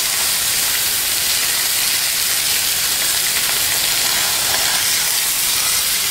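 Skin-on chicken sizzles loudly in a hot pan, a dense, steady hiss of frying fat that holds without pause from start to finish, close up and with no talk over it.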